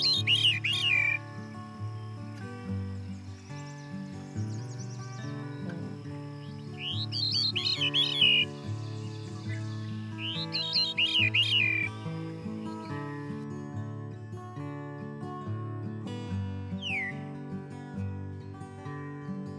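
Flutey, spiraling veery song phrases, played back through a speaker, repeat every few seconds over a steady background hum, fairly faint and clear.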